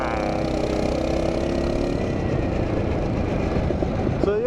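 Small mini bike engine idling outdoors, a steady, continuous mid-pitched putter held at an even level throughout, with a faint rising whine near the end.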